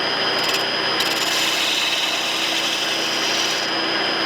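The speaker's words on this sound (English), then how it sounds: "I'm going to get my spindle gouge" A spindle gouge cuts spinning wood on a wood lathe while turning a barber's pole, giving a continuous close rasping hiss with a couple of brief brighter scrapes.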